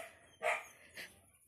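Large dogs barking at an animal shelter in Gryazy, two loud barks about half a second apart, heard close with a faint background and no talk.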